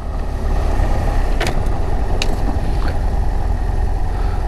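A BMW F800GS Adventure motorcycle engine running steadily in second gear while riding over a bridge, a continuous close mid-range drone with faint brief clicks and no talking.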